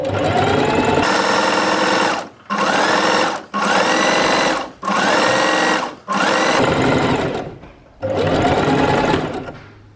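A sewing machine stitches down the side of a piece of fabric, running in loud close bursts of steady whirring, about five short runs separated by brief pauses, then one more run.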